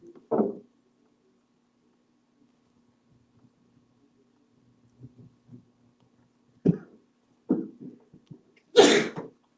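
A single loud sneeze bursts out near the end of a quiet stretch on a live trading-floor stream, preceded by a short cough-like burst at the start and a few faint scattered noises over a low steady hum.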